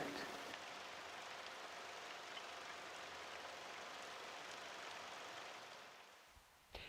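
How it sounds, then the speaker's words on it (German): Steady rain falls as a dense, even hiss that carries on unbroken for several seconds before thinning out near the end, with no talking heard. "Es regnet."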